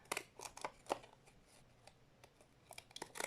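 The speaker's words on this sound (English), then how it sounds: "I might use these deckled scissors" Deckle-edge scissors snipping paper while decorating a journal, a series of short crisp cuts in uneven bursts, close and fairly quiet, with no voice.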